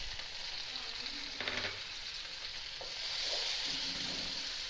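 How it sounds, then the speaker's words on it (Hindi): Tomatoes, ginger and garlic sizzle in a pan of browned onions for an Aloo Baingan dish, a steady close frying hiss with a brief stirring scrape partway through and no talking. "इनको ज़रा फ्राई करें।"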